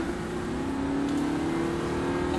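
A car engine holds a steady, strong drone as it accelerates on a track, pitch rising gradually through a gear change, close and loud with no talking.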